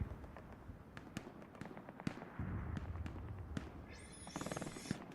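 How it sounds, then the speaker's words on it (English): Distant gunfire in the World War II shooter Hell Let Loose during a large 18v18 match: scattered sharp shots and pops crack irregularly at mid distance, with a rising rush of noise near the end. "Every time I go to watch a fight, I hear a ton of shooting off on the flanks."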